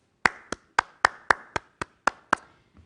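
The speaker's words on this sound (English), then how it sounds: "I want you to clap your hands." Nine crisp, evenly spaced hand claps ring out close by in a steady rhythm, each one sharp and quick to fade, with a quiet room between them.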